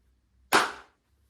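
A single hand clap in an untreated room, captured on a mobile phone: one sharp, loud burst with a short, bright reverberant tail fading quickly over a low background hum.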